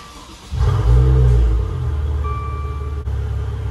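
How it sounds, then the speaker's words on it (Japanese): A Maserati Ghibli S, rear-wheel drive with a variable-valve exhaust, cranks and fires up, its engine flaring into a loud close rev before settling into a steady idle rumble. "はいそれではエンジンをかけます"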